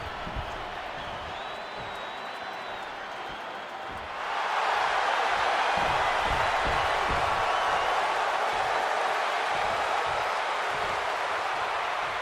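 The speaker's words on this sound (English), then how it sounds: "this capacity crowd just exploded" A capacity arena crowd roars into loud, sustained cheering in the WWE 2K26 wrestling game as Seth Rollins faces CM Punk, a steady murmur suddenly swelling into a dense, continuous wall of noise.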